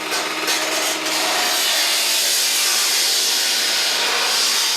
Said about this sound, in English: You'll take a metal circular saw and you'll make a V-type opening.